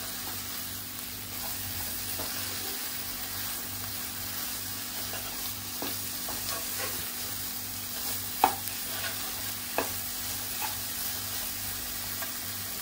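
A green masala paste fries and sizzles in a pan for prawn rice, a continuous bubbling hiss with a few sharp clinks of the spoon as it is stirred, heard alone with no talk.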